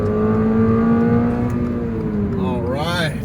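2022 Toyota GR86 with automatic transmission, its engine sound piped through a sound generator: a loud, steady, raspy drone inside the cabin with rising and falling tones, and a voice speaking over it near the end.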